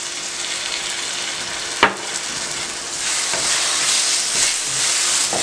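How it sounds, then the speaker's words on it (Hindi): Milk poured into a hot pan of carrot and semolina halwa, a loud steady sizzling hiss that swells and stays strong after a sharp clink, with no talking. "दूध डाल देना है और दूध में 1 हिस्सा गिलास का डालूंगी"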